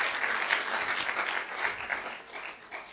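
A church congregation claps in sustained applause for a few seconds, dense and even throughout.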